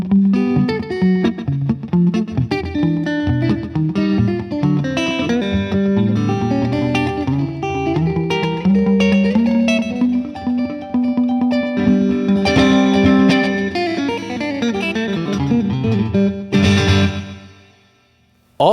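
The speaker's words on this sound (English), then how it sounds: "So I put a little slap delay on here, and I'm going to do a little hybrid picking for you here." A Taylor T5 electric guitar plays a quick, twangy hybrid-picked line with a short slapback echo, then rings out and fades near the end.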